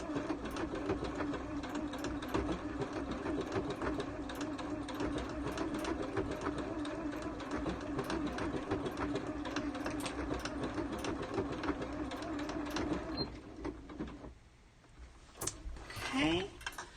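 A sewing machine stitches an upcycled petal pouch in a steady, rapid run for about fourteen seconds, close and even, then stops, leaving a few soft handling sounds.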